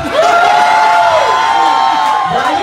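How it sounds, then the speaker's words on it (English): An audience at a drag show cheers and whoops loudly, with a high sustained shout sweeping over the crowd noise for a couple of seconds. "Why you cheering over here"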